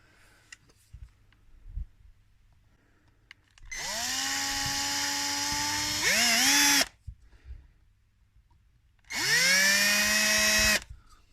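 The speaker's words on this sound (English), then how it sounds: "Makes it easier to drill and you're less likely to crack the plastic." Power drill boring a 3mm clearance hole into plastic for a 2.9mm thread on a robot shoulder part, two sustained high whining runs of a few seconds each with a pitch shift in the first, separated by a quiet pause.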